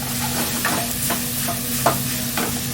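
Spicy pork is pressed and stir-fried in a wok, giving a continuous sizzle broken by rhythmic taps and scrapes of a utensil against the metal.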